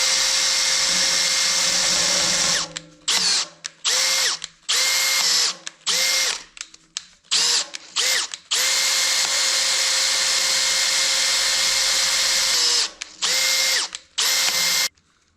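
A Makita power drill whines loudly at close range, starting and stopping in a run of short bursts with brief silences between them, then running in long steady stretches.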